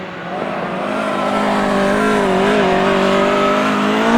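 An autograss race car on a dirt track at St Neots goes past with a loud, strained engine wail that sweeps and shifts in pitch. Tire noise runs underneath, and the sound builds steadily and stays close.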